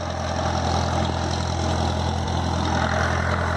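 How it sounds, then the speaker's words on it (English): A tractor engine idles on a Minnesota farm, a loud, even, close mechanical hum that stays steady throughout. "Levi's tractor. And Levi's right there. Don't kill it."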